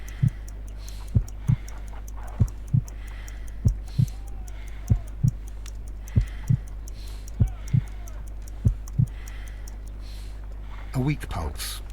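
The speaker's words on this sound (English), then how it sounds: "I need to concentrate and count the heartbeats." Steady heartbeat in the Sherlock Holmes: Crimes and Punishments video game, a slow, weak pulse of paired low thumps repeating evenly over a constant low hum, ending with a brief burst of other sound.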